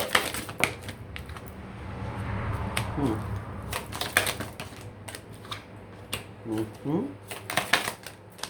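Oracle cards being shuffled and laid down, a close, papery riffling and flicking with soft taps, mixed in with a quiet background voice.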